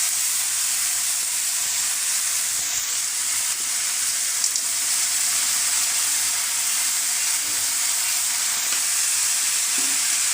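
Chopped vegetables and dried fish fry and are tossed in a pan, with a steady, moderately loud sizzle and hiss, occasional faint stirring scrapes and no speech.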